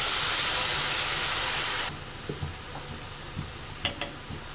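Ginger garlic paste, turmeric and salt going into a hot pan for a chicken dish, a strong steady sizzle that abruptly drops to a quieter hiss, followed by a few soft stirring knocks and clinks.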